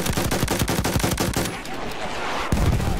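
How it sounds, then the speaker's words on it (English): Rapid gunfire and blasts in the Battlefield 1 video game, a fast rhythmic volley for a second and a half, then rumbling quiet broken by another sharp loud impact near the end. "A mortar. It's a mortar."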